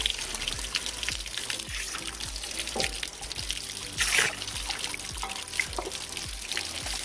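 Water draining from the water heater of an Arctic Fox truck camper, a steady close trickle and splash with irregular drips and gurgles running throughout, with no talking.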